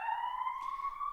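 A siren passes outside a studio, its steady tonal wail sustained and fairly faint throughout, with no talk over it.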